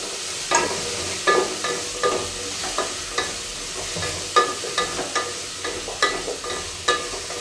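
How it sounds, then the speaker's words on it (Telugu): Potato and carrot pieces frying in a pan with tomato, a constant sizzle punctuated by regular spatula scrapes and taps that repeat every half second or so, close and clear. "ఇది కూడా కొద్దిసేపు బాగా వేగనిద్దాం."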